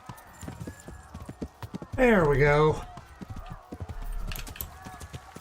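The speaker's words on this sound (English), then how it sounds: "Look at me trying to figure out how to ride a damn horse." Hooves clip-clop in a steady, rhythmic patter in the video game Kingdom Come: Deliverance, broken partway through by a loud horse whinny, while someone speaks briefly over the sounds.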